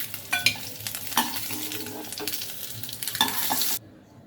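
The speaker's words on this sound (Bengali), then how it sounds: "বন্ধুরা, ডিমগুলো হালকা করে ভেজে নিতে হবে এভাবে।" Eggs frying lightly in hot oil while being stirred: soft sizzling with irregular spatula taps and scrapes against the pan, close-up with no talking, then cutting off abruptly near the end.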